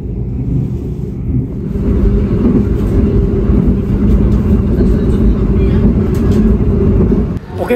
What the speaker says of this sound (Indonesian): kereta api Argo Wilis diberangkatkan kembali dari stasiun Sumobito